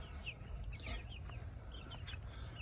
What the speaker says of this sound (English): we're going to feed our chickens real quick